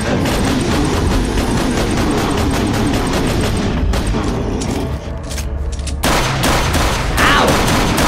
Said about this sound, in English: Watch where you're shooting that thing, man.